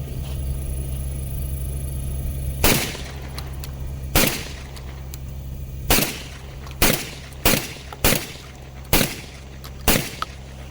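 Beretta 1301 tactical shotgun firing eight loud, close shots spaced about a second apart, each a sharp blast with a short decay, over steady low background hum and no talking.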